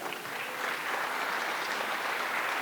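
Congregation in a church clapping in praise, a dense, steady wave of applause filling the whole moment without talk.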